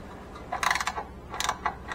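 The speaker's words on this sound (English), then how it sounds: "So a 9/16 inch socket. Just loosen it up" A 9/16 inch socket ratchet loosens a bolt on an Exmark mower deck, giving two short bursts of close mechanical clicking with a pause between them and no talk.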